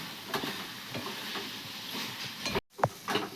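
Cooked grated carrot mixture for carrot burfi being stirred in a pan, a steady soft sizzle with repeated scraping strokes, close and continuous, one brief dropout near the end and no talking.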